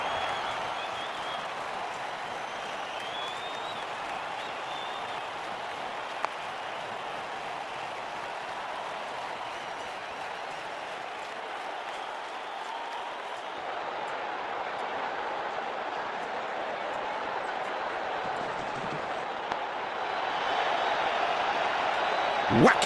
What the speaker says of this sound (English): Crowd's gone mad.